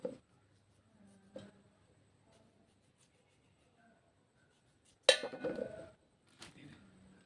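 Unpeeled beetroot being chopped with a knife, along with other scraps ground up as fertilizer for spinach: a few sparse, sharp knocks close by, then a louder clattering burst of kitchen noise near the end, with no talking.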